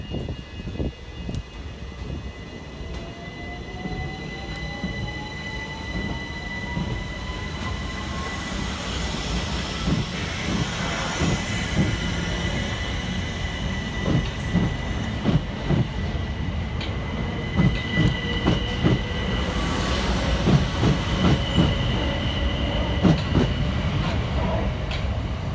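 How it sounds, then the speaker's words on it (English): Two coupled Southern Railway Class 377 electric trains depart South Bermondsey station, their motors whining upward in pitch as they pull away, with rhythmic wheel clicks over rail joints growing louder and closer through the middle and end. "we see the departure of 377323 and 377317 with the 1501 Southern Railway service from East Croydon through to London Bridge"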